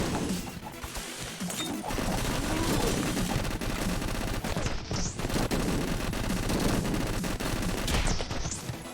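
Rapid continuous FAMAS automatic fire in Madness: Project Nexus, dense loud bursts of gunshots running almost without pause, mixed with crashing impacts and game effects.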